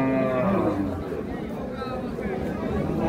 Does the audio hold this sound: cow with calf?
yes